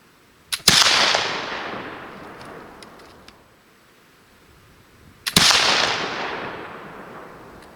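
Two loud shots ring out about five seconds apart from an 1800 Baker Rifle firing patched balls, each a sharp crack followed by a long rolling echo that fades into quiet.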